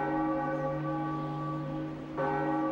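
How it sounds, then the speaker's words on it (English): A giant bell in The Legend of Zelda: The Wind Waker tolls with a loud, sustained metallic ring, then is struck again near the end, its rich humming tone continuing without any voices. "You'll ring this bell by latching onto that section of the ringer, or whatever that part is called, with a grappling hook and swinging back and forth."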